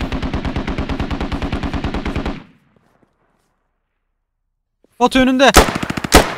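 Rapid automatic rifle fire in Squad, a steady close burst of evenly spaced shots that stops abruptly, then after a silent pause another sharp volley of gunfire with someone speaking briefly over it.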